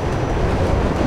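A train rushing past in the video game Mirror's Edge, a loud, dense, steady roar with rumbling rail noise filling the whole moment, close by.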